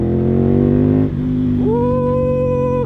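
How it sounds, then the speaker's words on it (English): A Ducati Monster motorcycle engine idles loudly and steadily, then its pitch rises sharply as the throttle opens, holding a higher, strained revving tone. "You hear all the characteristics of the engine, the exhaust, the headers."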